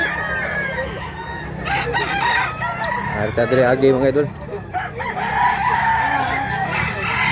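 Chickens and roosters at a busy poultry market, several crowing and clucking over one another amid steady crowd noise, with someone talking through part of it.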